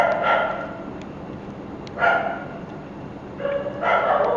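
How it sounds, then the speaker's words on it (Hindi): Several dogs bark in short bursts outdoors, loud and fairly close, with two or three clusters of barks separated by pauses. "ये कुत्ते ही नहीं साले शांत हो रहे"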